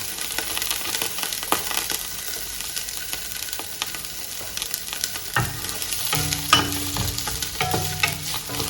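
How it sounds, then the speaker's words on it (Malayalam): Steady sizzling of onions and curry leaves sautéing in hot coconut oil for chicken curry, with occasional scrapes and stirring clatter growing busier toward the end. "അത് കരിവേപ്പിൻ്റെലയും കൂടെ ഇട്ടിട്ട് ഒന്ന് വഴറ്റണം ആദ്യം."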